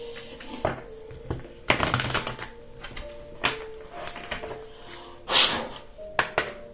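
A deck of tarot cards is cut and handled close by, giving irregular clacks, taps and slaps with short sliding rustles. The sounds are moderately loud with quiet gaps between them.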